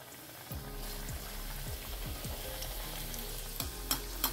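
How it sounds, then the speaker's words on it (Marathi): Veg crispy rolls deep frying in hot oil, a continuous bubbling sizzle with several soft low thuds as the rolls shift, and a few sharper clinks near the end. "वेज क्रिस्पी रोल अशा प्रकारे तळून घ्यायचे"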